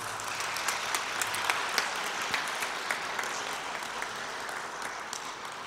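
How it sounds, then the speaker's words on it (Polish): Steady audience applause fills a concert hall for a young poet at a papal tribute concert, a dense wash of claps of even loudness with no voices, sustained throughout. "Brawa dla Julii."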